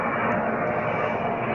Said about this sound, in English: Sorry about the plane, guys.